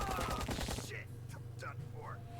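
Burst of rapid submachine-gun fire in the Empire of Sin gangster strategy game, a dense rattling volley lasting under a second that ends abruptly, followed by someone talking.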